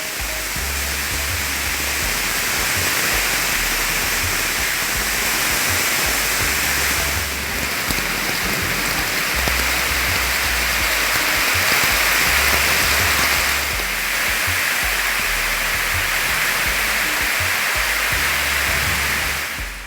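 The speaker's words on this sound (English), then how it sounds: "It's like raining inside the house." Heavy rain driven by wind pours onto and into an open off-grid house in Colombia. It makes a loud, dense, steady roar throughout, with no talking.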